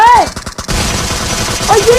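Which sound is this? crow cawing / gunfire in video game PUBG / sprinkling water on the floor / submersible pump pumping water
gunfire in video game PUBG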